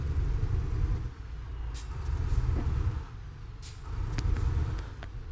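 A Scania truck in Euro Truck Simulator 2 pulls away with a low engine rumble that rises and falls, broken by several short, sharp air-brake hisses.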